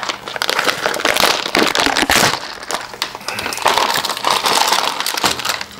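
Plastic packaging of a Chinese knockoff Lego Hero Factory set being torn and crushed open by hand, a close, loud stream of crinkling, crackling rips and crumples in uneven bursts, with no talking.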